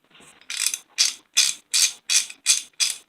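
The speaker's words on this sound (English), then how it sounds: "See, this is a 1/2 inch ratchet." A Craftsman 1/2 inch hand ratchet is cranked in a quick series of about seven bursts, each a dense run of close, bright clicking from the pawl, with short gaps between and no talk.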